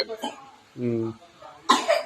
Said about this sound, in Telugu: కదా దగ్గుస్తుంది.